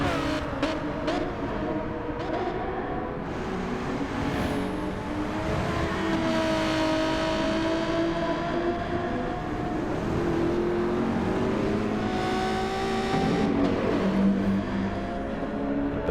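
Race cars in Gran Turismo 7 lap the Red Bull Ring in a wet-start one-hour race, their engines droning and revving continuously, rising and falling as cars pass, with no talking.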